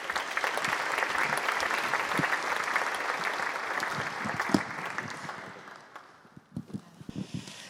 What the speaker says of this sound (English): please give a warm applause to Saskia Bruines